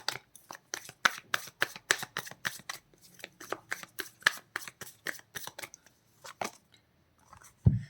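Tarot cards shuffled and handled in a rapid run of crisp riffling flicks, close and fairly quiet, thinning out toward the end before a soft bump.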